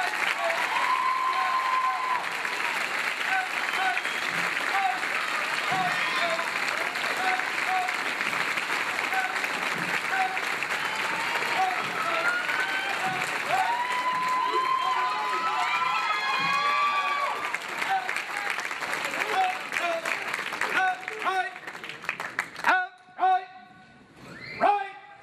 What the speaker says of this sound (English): applause for this.